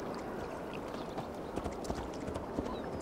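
Horse hooves clip-clop steadily in Assassin's Creed Valhalla, a continuous run of soft, close footfalls with a few sharper hits over a dense ambient game soundscape.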